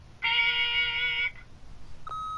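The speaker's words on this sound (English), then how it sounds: "leave a message at the beep" An answering machine beep in The Wolf Among Us video game: a long, steady electronic tone of about a second, then after a short gap a second, thinner beep, both clear against a quiet background.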